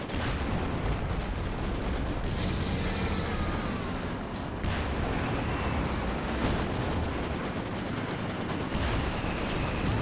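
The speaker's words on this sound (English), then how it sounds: "And one last shot from the siege barrage." Siege artillery barrage in Company of Heroes 2, heard as a dense, continuous roar of explosions and gunfire. The rumbling blasts stay loud and sustained through the whole stretch with no talk over them.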